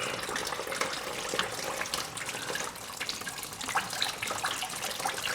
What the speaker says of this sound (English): Damn, that's a lot of coolant.